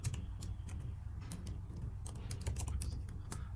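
Quick, light keystrokes on a computer keyboard as a terminal command is typed, a close run of irregular clicks with short pauses and no talking.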